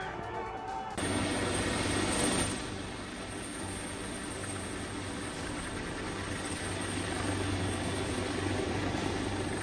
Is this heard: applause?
no